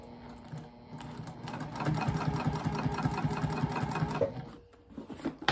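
A sewing machine runs a straight stitch along a seam of a fabric retreat bag, a close, continuous rapid chatter of needle strokes that builds up, holds steady for several seconds, then slows and stops.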